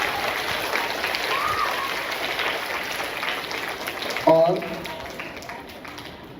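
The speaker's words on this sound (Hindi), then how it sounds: "A big round of applause for your teachers please." A crowd at a school assembly applauds steadily in a dense wash of clapping, with a voice briefly speaking partway through.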